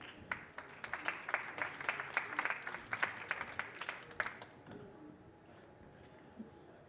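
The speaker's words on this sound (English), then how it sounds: "big applause for him" Audience applause at a smart city startup awards final, a dense burst of clapping for about four and a half seconds that then fades into quiet room tone.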